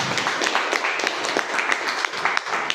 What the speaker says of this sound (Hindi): बढ़िया, जोरदार ताली हो जाएगी।